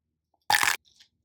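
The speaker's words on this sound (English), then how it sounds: "chewing anything leafy takes 900 years" Someone bites into a warm leafy green salad, making a single short, crisp crunch up close, followed by a couple of faint, soft chewing sounds in otherwise quiet surroundings.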